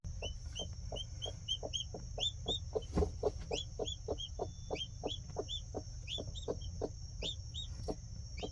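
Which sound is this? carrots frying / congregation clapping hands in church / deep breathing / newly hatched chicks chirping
newly hatched chicks chirping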